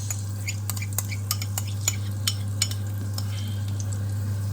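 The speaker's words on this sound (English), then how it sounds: "Now I beat again." Eggs being beaten in a bowl for a breakfast omelette, a quick series of light clicking taps of utensil against the bowl over a steady low hum.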